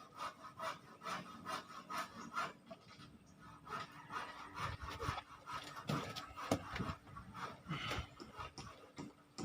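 Scraping and carving into a sink surface with a hand tool, producing continuous rough rasping strokes in a steady back-and-forth rhythm, close and moderately loud with no talking.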